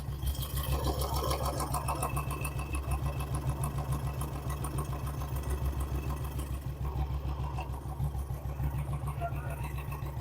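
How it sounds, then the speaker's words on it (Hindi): Royal Enfield Classic 350 single-cylinder engine idling after a piston ring change, a steady, close, rapid mechanical thumping throughout with a faint voice in the background. "बाइक का इंजन का साउंड देखिए नया जैसा लग रहा है"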